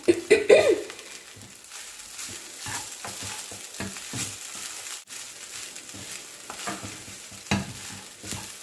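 Egg fried rice being stir-fried in a pan with stirring scrapes and a soft, steady sizzle, fairly close, with a few louder clatters near the start and no talking.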